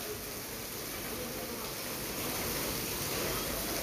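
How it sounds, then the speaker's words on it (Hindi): Heavy rain falls in a steady, dense wash of noise that fills the whole stretch without breaks, even and moderately loud. "अब तेज़ बारिश हो रही है।"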